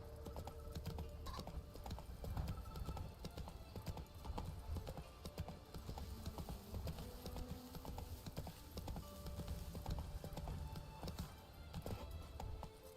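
A horse gallops continuously through The Witcher 3 countryside, with quiet, rapid hoofbeats repeating under a dense wash of game ambience for the whole stretch.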